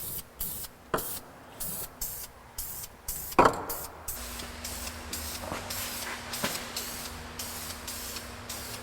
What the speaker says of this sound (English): spray the can upside down for a minute just to clear the nozzle